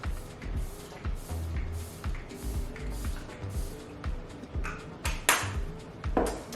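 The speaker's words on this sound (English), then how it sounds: "now I'm going to set my face using Veil by Hourglass. This is their setting mist" Hourglass Veil setting mist is spritzed onto a face in two short, airy bursts near the end, after some soft handling noises.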